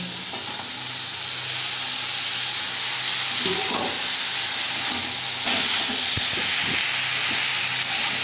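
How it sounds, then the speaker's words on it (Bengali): Mixed vegetables and their cut stalks stir-fried in oil for a vegetarian labra, a constant loud hissing sizzle with occasional scraping knocks of a spatula against the pan. "আমি সবজিগুলোকে সুন্দর করে তেলের উপরে দিয়ে সুন্দর করে কষিয়ে নেব"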